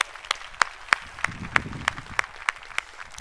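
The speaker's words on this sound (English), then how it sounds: "a big round of applause for Ellen." A sparse scattering of hand claps from an audience at a startup accelerator demo day: sharp separate claps, roughly three per second, fairly close and moderately loud, with no voices over them.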